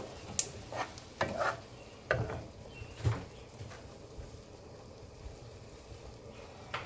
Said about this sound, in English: we're going to add our pasta into the pan and toss it all together in this lovely sauce